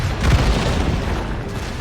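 Ship cannons fire in the video game Assassin's Creed Rogue, a deep, loud boom bursting early and then rolling into a fading rumble.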